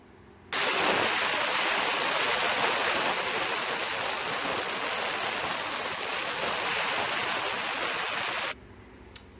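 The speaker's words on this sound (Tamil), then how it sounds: "ஒரு மூணு விசில் வந்தோடனே பார்ப்போம்" A pressure cooker whistle releases a loud, steady hiss of steam while cooking rice and dal, rushing out continuously for about eight seconds, then cutting off abruptly.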